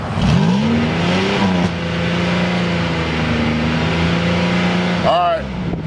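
A car engine revs up and settles into a steady loud drone close by, with a second sharp rev near the end.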